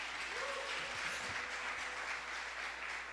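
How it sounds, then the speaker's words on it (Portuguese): A church congregation gives a loud round of applause to Jesus, a continuous wash of clapping that holds steady for a few seconds, with faint murmurs beneath. "Quem pode dar uma salva de palmas bem forte a Jesus?"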